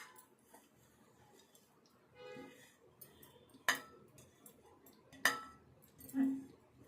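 A spoon clinks against a bowl while egg dosa batter made with wheat flour, onion, tomato, coriander and green chilli is mixed. A few sharp, fairly quiet clinks sound over soft stirring, with brief scraping in between.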